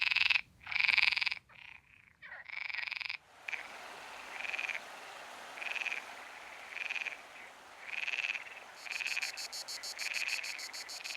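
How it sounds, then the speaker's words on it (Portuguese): Male green frogs croaking in a loud chorus to attract females, with repeated pulsed calls arriving in regular bursts, some close and strong, over a steady background hum of other calling frogs. "os machos de rã verde exibem-se para as fêmeas"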